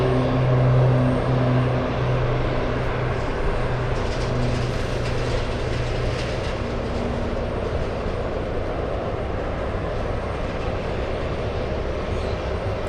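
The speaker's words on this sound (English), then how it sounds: "will it be taking off on runway 15" A jet airplane taking off from Boston Logan Airport, its engines producing a steady, loud, broad roar with a low droning hum that holds throughout, no voices heard.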